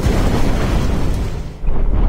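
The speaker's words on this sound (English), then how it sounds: "Hit him with a cannon" Deep booming cannon blasts in the video game Grimm rumble continuously, a heavy explosive roar that dips briefly near the end before surging back loud.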